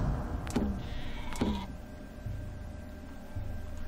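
Sheep in the video game Dawn of Man bleat twice in short nasal calls over a low game ambience, with faint humming tones later; no one speaks.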